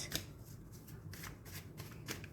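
Tarot cards being shuffled close up, several quick riffling bursts of papery flutter in a short quiet stretch.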